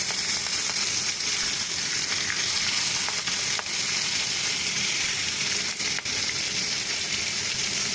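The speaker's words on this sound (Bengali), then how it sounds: "প্রথমেই ওভেন অন করে কড়াই দিয়ে মাছগুলোকে ভেজে নেওয়ার পালা।" Prawns fry in a hot wok for a Bengali prawn malai curry, giving a steady, dense sizzle throughout with a few faint stirring clicks and no talking.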